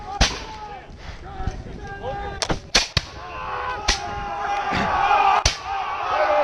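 Musket and gunfire crack out during a Stony Point battle reenactment, several loud, sharp shots spaced irregularly over a shouting crowd, with men yelling throughout.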